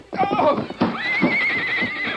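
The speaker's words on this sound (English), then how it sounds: "His horse stumbled and fell." A mustang gives a loud, shrill whinny as a sound effect in a 1942 radio western drama; a sharp opening burst is followed by a long, quavering neigh.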